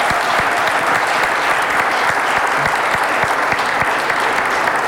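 A concert audience breaks into loud, dense applause at a Broadway-themed benefit concert, continuous clapping from many hands filling the hall evenly without pause.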